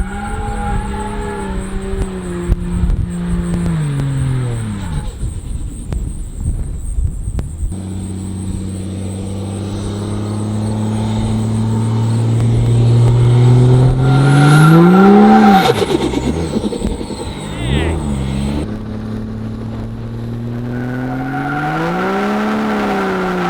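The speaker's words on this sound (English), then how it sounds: "So we're gonna try and go do some burnouts, wear down the tread really far" Triple-turbo Cummins diesel truck doing burnouts: a loud, sustained engine roar rises and falls, with the revs climbing to a sharp peak midway, a tire squeal riding over it, then dropping back to a heavy rumble.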